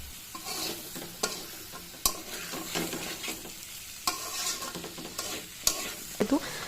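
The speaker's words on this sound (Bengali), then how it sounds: "তখন আমি দিয়ে দিব টমেটো, তারপর নেড়ে চেড়ে আবার কিছুক্ষণ টমেটোগুলো সিদ্ধ করে নিব।" Tomatoes being stirred in a frying pan while cooking chicken chaap: a soft, steady sizzle broken by sharp scrapes of the spoon against the pan, fairly quiet and close, with no talking.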